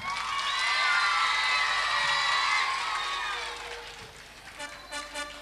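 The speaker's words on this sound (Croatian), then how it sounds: "Idemo još jedan aplauz za Almu." An audience at a children's festival semifinal cheers and applauds for a child contestant, with a broad swell of crowd noise that peaks early, then fades to scattered claps and shouts.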